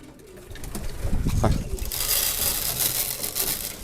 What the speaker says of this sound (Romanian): Ideea este ca porumbeii să mănânce toate boabele pe care le dăm, nu doar de un anumit fel.